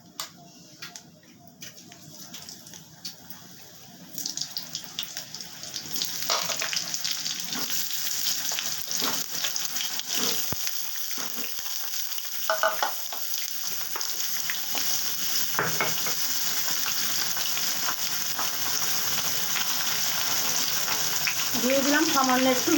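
Sliced pointed gourd (potol) hisses and sizzles in a hot pan for a Bengali mustard potol dish, starting quiet and rising into a steady, dense frying crackle with occasional stirring clatter.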